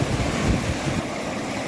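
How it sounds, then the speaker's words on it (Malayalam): A waterfall on a river beside a temple in Kollam, Kerala gives a broad, steady roar of rushing water, loud and close, with a heavier low surge at first that eases slightly. "മനോഹരമായിട്ടുള്ളൊരു വെള്ളച്ചാട്ടമാണ്"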